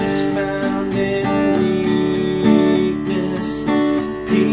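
Acoustic guitar strumming the verse chords of a worship song in a steady rhythmic pattern, close and fairly loud, with dense layered chord harmonics and no voices.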